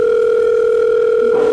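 A steady, continuous telephone dial tone, loud and close, holding evenly with no breaks and no voices.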